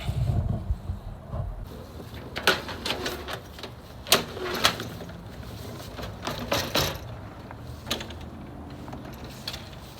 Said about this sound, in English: And you lower the ramp just like that.